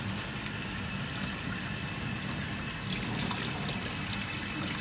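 Steady running water splashing as a fish net is rinsed, a broad continuous wash of liquid close to the microphone with no voices.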